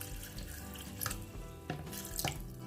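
Water pours from a tap into a blender jar for a potato dough, a soft trickling and splashing stream that runs quietly and unevenly with a few louder gurgles.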